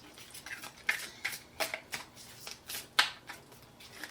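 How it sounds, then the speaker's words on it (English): Playing cards are shuffled quickly in a series of soft riffling bursts, close and quiet, with brief pauses between them. "I shuffled too fast."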